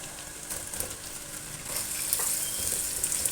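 Chicken stir-frying in a hot pan with onion whites and garlic paste for chow mein, a steady close sizzle and crackle with occasional stirring scrapes, no talking.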